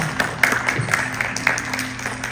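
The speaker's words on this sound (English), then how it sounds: "Give him a big round of applause." Audience at a comic convention art panel applauding, a steady patter of clapping from a modest crowd with a few sharper claps standing out, moderately loud and sustained.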